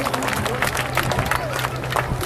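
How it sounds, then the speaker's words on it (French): Spectators at an air show crowd clapping for a military parachutist's precision landing, dense steady applause with babble of voices mixed in, heard at moderate distance without pauses. "On peut l'applaudir un peu plus."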